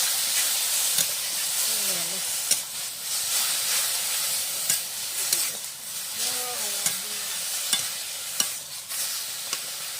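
Kaloi greens with torn green chilli frying in a pan, sizzling and hissing steadily while a spatula stirs and knocks against the pan in irregular bursts, with faint voice-like murmurs underneath.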